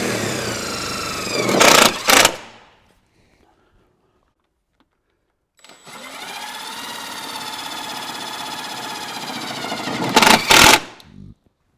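A power driver whines in two bursts, the motor winding up and stopping with a short pause between, as tech screws are driven in to hold a fender liner on a Jeep Gladiator fitted with tube fenders.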